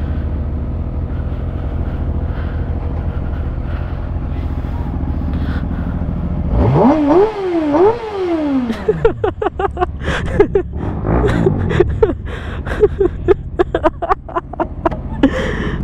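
A Kawasaki Ninja ZX6R motorcycle idles steadily up close, then revs in rising and falling sweeps, followed by a run of sharp throttle blips and pops.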